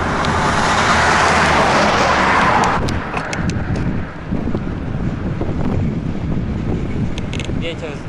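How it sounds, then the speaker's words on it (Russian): Wind buffets the microphone in a loud, rushing roar that eases after a few seconds, leaving a steady road rumble with faint clicks, on a solo bicycle ride near Almetyevsk, Russia, past oil pumpjacks. "Ветер сдувает."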